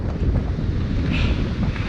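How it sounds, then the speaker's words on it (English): Strong wind at a beach cliff near Pacifica, California, pounds the microphone in a dense, loud, continuous rumble, with a hint of surf mixed into the steady roar. "It is pretty windy right here"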